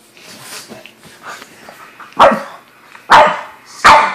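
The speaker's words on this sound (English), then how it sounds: "She growled." A pug makes three sharp, loud vocal bursts in the second half, barks or gruff growl-like yips, each following quieter rustling and low vocal noise indoors on a bed.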